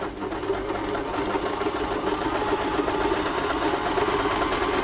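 A Bernette b35 sewing machine runs steadily, its motor humming and needle stitching in a continuous, close, even whir with no pauses.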